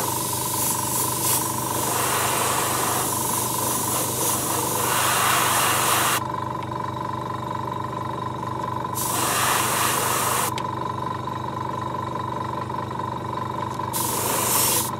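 An airbrush sprays transparent paint onto a fishing lure, a continuous close hiss over a steady droning compressor hum, with the spray cutting out briefly twice while the motor keeps running.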